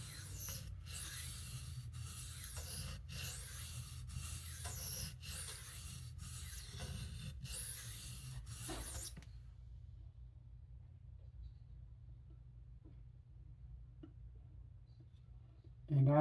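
A knife is drawn across a hard Arkansas sharpening stone under moderate pressure, making about nine evenly spaced rasping strokes up close before falling to near silence.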